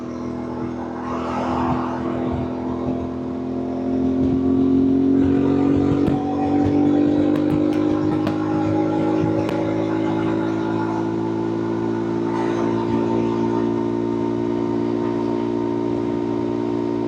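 A CFMoto MT450 adventure motorcycle cruises along a highway, its engine drone steady and close under heavy wind rush, with the pitch rising slowly as it picks up speed.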